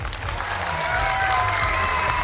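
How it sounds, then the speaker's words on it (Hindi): Studio audience on a television game show claps for the actress Meera in a dense, even patter that swells slightly partway through, with a low hum beneath. "कभी भैया मीरा के लिए ताली हो जाए"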